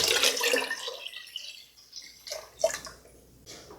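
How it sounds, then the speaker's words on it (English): Cold water pours and splashes into a container for curing bacon nearby, a gushing flow that tapers off and then surges briefly again, with no talking. "So I'm going to add some more cold water now."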